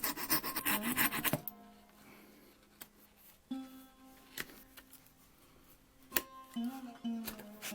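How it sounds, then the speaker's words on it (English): Sandpaper is rubbed over decorative pins on an axe handle, with a dense rasping at the start followed by quieter intermittent scrapes and small taps, close by. "Since it was not possible to simply cut the pins, I had to clean them with sandpaper and repaint the handle."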